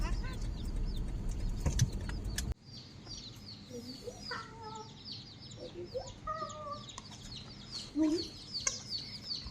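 Newly arrived baby chicks peeping in a brooder box, high thin chirps repeating near and far while people talk over them and handling noises come and go.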